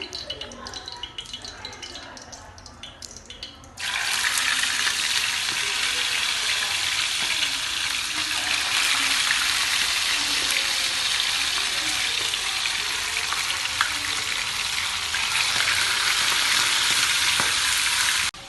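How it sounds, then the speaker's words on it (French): Fish frying in a hot pan of oil while rice, tomato sauce and pasta are prepared, a dense, steady sizzle that swells loudly after a quieter start and continues without a break. "je vais continuer en faisant frire mon poisson que voici"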